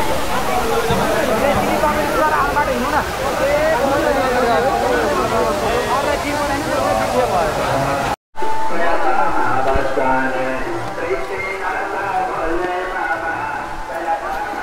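The Jhor waterfall in Tokha, near Kathmandu, gives off a steady, loud rushing roar of falling water heard close by, with people's voices mixed into the din.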